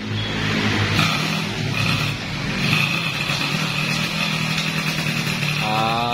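A motorcycle engine drones loudly and close, with its aftermarket racing exhaust rasping and revving upward near the end.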